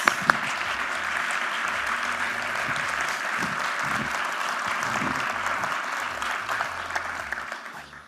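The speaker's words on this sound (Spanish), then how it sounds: "le damos un fuerte aplauso a Emiliano Trías" A conference audience gives a sustained round of applause for a science speaker at a Spanish-language event, dense clapping filling the room steadily for several seconds before beginning to taper near the end.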